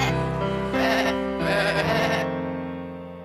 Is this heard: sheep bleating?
yes